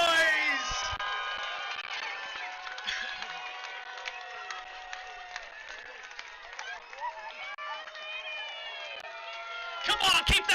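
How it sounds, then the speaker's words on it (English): An outdoor crowd at a longboard surf contest on the beach cheers, whoops and claps after winners are announced, a lively mix of high shouts and steady applause that holds for about ten seconds before fading. "Come on, keep that applause going."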